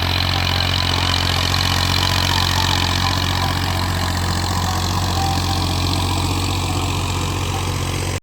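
A tractor engine runs in a farm field during wheat sowing, giving a steady, close, unchanging low drone throughout.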